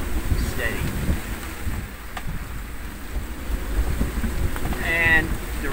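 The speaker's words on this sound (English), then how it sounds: "the wind has increased again. I would say we're in gale force, gale force winds, 35 knots" Strong gale-force wind at sea, about 35 knots, buffets the microphone in a steady low roar, with a brief high whistle near the end.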